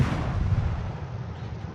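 Heavy naval guns roar from a Gearing-class destroyer in a warship video game, a dense, rumbling burst of artillery that fills the moment with a low booming wash and no voices.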